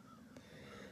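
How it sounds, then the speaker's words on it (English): Crows calling outdoors in Oswego, New York, during a solar eclipse, one faint caw standing out against a steady background hum and ambient noise, fairly distant. "There are my beautiful crows"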